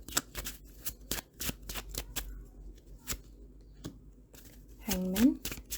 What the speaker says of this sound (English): let me pull some cards for you here.